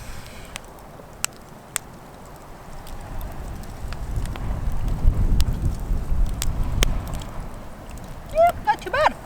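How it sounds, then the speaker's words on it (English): Gusty wind buffets the microphone at a mountain campsite in British Columbia beside a campfire, a low rumbling roar that swells through the middle of the clip, with faint crackles and a few sharp knocks. "It's getting a little bit windy."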